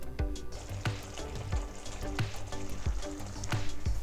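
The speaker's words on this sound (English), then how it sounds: "And cover and let the sauce simmer for a few minutes." Miso sauce simmering in a covered pan, a steady bubbling hiss punctuated by regular low popping thumps roughly every half second, close and moderately quiet.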